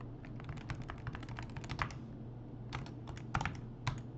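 Code being typed on a computer keyboard, quick bursts of close, crisp key clicks with short pauses between runs, over a low steady hum and with no talking.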